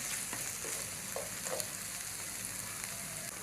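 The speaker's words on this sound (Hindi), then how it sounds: "अब इन तमाम मसालों को अच्छी तरह से भून लेंगे।" Spices fry with tomato and onion in a pan for an egg curry, a steady close sizzle with a few soft stirring scrapes and no voices.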